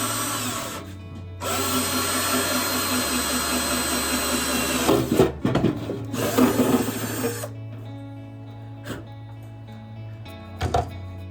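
Loud power drill bores into a metal ammo can for a DIY fire pit, a steady whine running in two long bursts with a short gap, then fading to brief bumps and rattles at the end.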